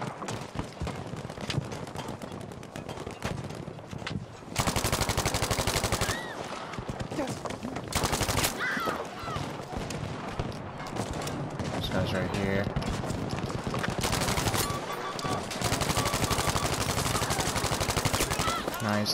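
Rapid automatic gunfire and bursts of shots from a Battlefield V firefight, loud and nearly continuous with brief lulls, dense overlapping rounds over battle noise.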